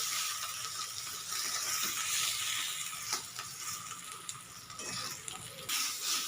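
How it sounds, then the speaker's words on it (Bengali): Shrimp and lentil paste stir-fried with spices in a pan for potol dolma, a steady hissing sizzle with occasional faint scraping of a spatula. "চিংড়ি মাছ আর ডাল বাটাটা দিয়ে দেব দিয়ে খুব ভালো করে কষিয়ে নেব মশলার সঙ্গে"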